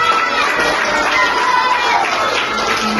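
An audience at an academy colour day event in Panoor claps to welcome a guest, a loud continuous wash of applause mixed with crowd noise and voices.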